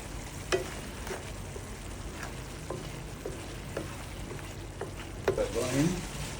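Blue crab sizzles and fries in a wok with Chinese wine, a steady crackling hiss with scattered stirring clicks and scrapes throughout, growing busier near the end.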